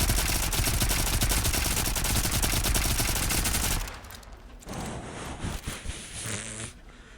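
A submachine gun fires in a rapid, continuous automatic burst in the video game Volcanoids, loud and close for several seconds, then stops and gives way to quieter game sounds.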